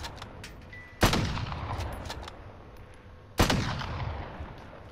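Two loud, sharp gunshots from a video game firefight ring out a couple of seconds apart, each with a long reverberant tail, over quieter background activity.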